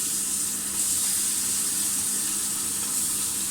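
Prawns frying in hot mustard oil in a wok give a steady, loud, hissing sizzle that carries on without a break, close up, with no voices.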